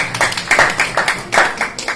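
Hands clap in a quick, fairly even rhythm at a three-day forest range officers' seminar in Kevadia, Gujarat, loud and close, with roughly a dozen sharp claps and no speech over them.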